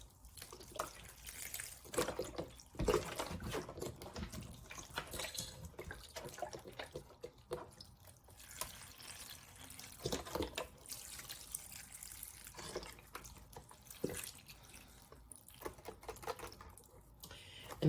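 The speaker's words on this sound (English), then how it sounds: "I'm going to put in some chicken broth" Chicken broth poured from a container into a crockpot of collard greens, a steady close liquid pour with splashing and gurgling lasting many seconds, no talking.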